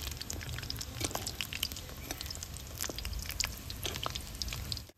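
Cream rolls fry in oil with a continuous low crackle and scattered popping bubbles, moderately quiet and unbroken, until it stops abruptly at the end.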